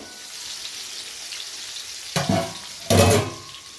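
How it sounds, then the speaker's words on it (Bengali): Pointed gourds fry in oil in a pan over low-to-medium heat, a quiet steady sizzle that swells into two louder bursts of spattering crackle near the end. "আর একটু ঢাকা দিয়ে দিয়ে ভেজে নেব"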